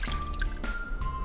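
A homemade bath bomb drops into cold water with splashy, dripping liquid sounds: a brief plop, then wet trickling and fizzing over a steady tonal hum, close and fairly loud.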